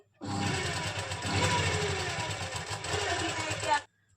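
A sewing machine fitted with a single foot sews long stitches along a stone-work V neckline, a steady close whirring run that stops abruptly near the end.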